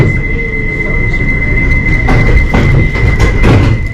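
A London Underground train rumbles loudly with a steady high electrical whine, clanks and thuds punctuating the noise.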